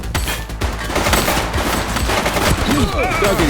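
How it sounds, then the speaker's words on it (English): Heavy video-game gunfire during a police chase in The Precinct, dense rapid bursts and shots crackling continuously, loud and close, with sirens or whines rising near the end. "He's running. He's shooting!"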